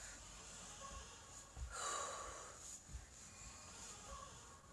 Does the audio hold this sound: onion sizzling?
no